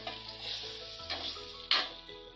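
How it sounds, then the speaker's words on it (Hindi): Tomatoes go into a pan of sizzling dal mash, a close hiss and crackle that flares with brief stirring and scraping bursts. "अब इसमें डालेंगे टमाटर,"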